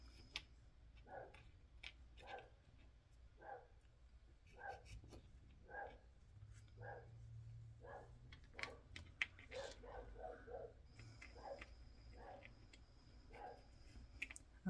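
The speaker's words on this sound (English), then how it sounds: "The dog's saying hi to the neighborhood again." A neighbor's dog barks in short, evenly spaced bursts outdoors, moderately distant, repeating roughly every second, with faint background ambience and no talk.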